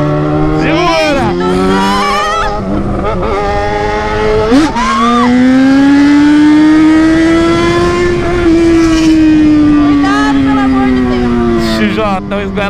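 Yamaha XJ6 motorcycle revving and pulling away, the engine note climbing and holding in a loud sustained whine with gear-change dips, under excited talk.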